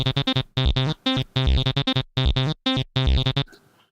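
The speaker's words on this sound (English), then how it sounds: "because it's not acid unless it has resonant filter." An acid-style synth sequence runs through a highly resonant state variable filter, producing a rhythmic pattern of short, squelchy notes with a sharp, whistling resonance peak. The notes are clipped and loud, then stop and leave a faint tail.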